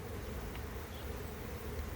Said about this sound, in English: Yeah, there's a lot of bees in there.